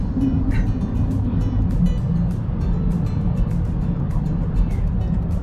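An RV rolls through a long road tunnel, its steady, loud road and engine roar filling the enclosed space, with faint clicks and rattles from inside the cabin and no talking.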